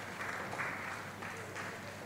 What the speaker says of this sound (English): Keep clapping, don't stop clapping